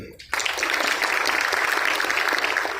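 After a short quiet moment, students in an on-site agentic-AI class break into sudden applause. The clapping is loud and continuous, and some voices can be heard mixed into it.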